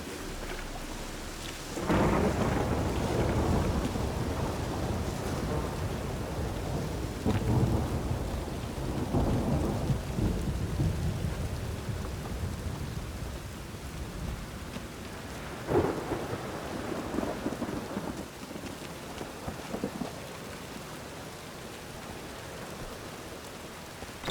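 Steady rainfall with rolling thunder in the video game The Witcher 3, several loud cracks and rumbles rising over a continuous wash of rain, no voices.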